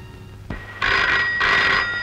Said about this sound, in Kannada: ಆಗಲೋ ಫೋನ್ ಬಂತು ನೋಡೋ